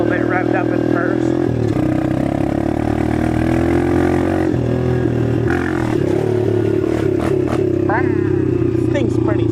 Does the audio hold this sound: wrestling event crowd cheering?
no